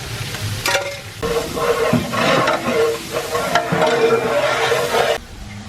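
Onions hit hot oil with garlic already in the pan for a pork fry, giving a steady sizzle and frying hiss with stirring scrapes, close and continuous.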